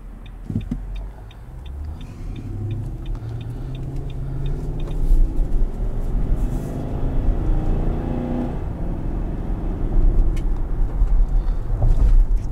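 A 2021 Nissan Armada SL engine pulls under acceleration while driving, a low steady rumble that builds gradually with cabin road noise and a few faint ticking chimes early on.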